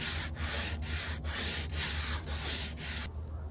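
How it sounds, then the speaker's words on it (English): A curved French provincial wooden dresser is hand sanded with 180 grit sandpaper, producing steady rhythmic scratchy back-and-forth strokes, about seven passes, close and continuous, ending abruptly. "there's a lot of hand sanding involved"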